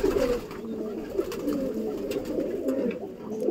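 Young pigeons coo in low, rolling, overlapping calls that continue steadily throughout, fairly close and moderately loud with no talking.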